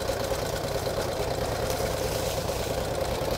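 A 1949 Harley-Davidson Panhead enduro racer, a big heavy bike, creeps downhill with its engine running low and steady, a continuous close rumbling drone with no speech.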